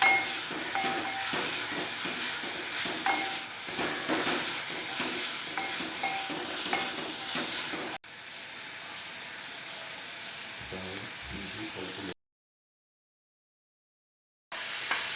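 Tomatoes fry in a pan and are stirred while a semolina thari chicken biryani is cooked. A dense, close hiss and sizzle with scraping stir sounds drops in level partway through, then cuts out briefly before resuming.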